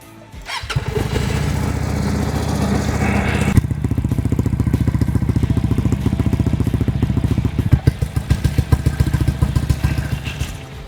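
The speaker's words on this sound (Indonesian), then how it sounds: "Suara dari mesin V-twin Napoleon Bob 250." A Benda Napoleon Bob 250 V-twin bobber with stock twin exhausts starts up, then idles with a loud, steady, close throb that breaks into choppy, uneven pulses toward the end.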